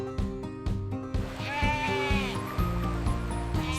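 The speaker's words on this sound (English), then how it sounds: "Sound they make is ba." Sheep bleating in a barnyard setting, several wavering calls over a steady backing of music, fairly loud and close throughout.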